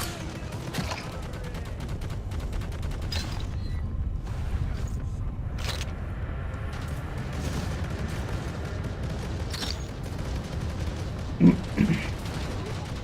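Las gun fire in the video game Necromunda: Hired Gun, a fairly quiet, continuous spray of rapid shots and crackling impacts with a brief louder burst near the end.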